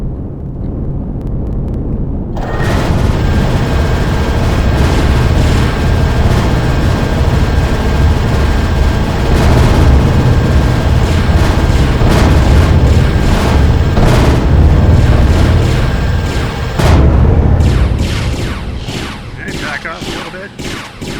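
Enemy gunfire rattles in the Empyrion Reforged Eden video game, a dense, loud, continuous barrage of shots and booms lasting nearly the whole stretch after a quiet start.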